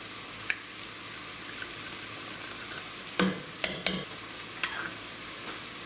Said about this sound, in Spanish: Y 8 minutos de freír aquí la cebolla con las verduras.